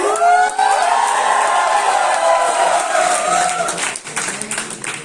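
An audience at a company speech event bursts into loud, sustained applause with cheering and whoops, a dense crowd roar that tapers off near the end as a voice begins to speak.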